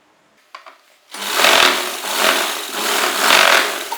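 A sewing machine runs a double line of stitching on an Afghani salwar, starting after a couple of soft clicks and then whirring steadily and close, rising and dipping slightly in speed.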